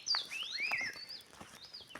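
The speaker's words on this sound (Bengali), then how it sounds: "পাখির ডাক শুনতে পাচ্ছি কিন্তু কোনো পাখি দেখতে পাচ্ছি না সেভাবে।" Birds outdoors give a few quiet, high whistling chirps with rising and falling sweeps, faint and somewhat distant, over a near-silent background.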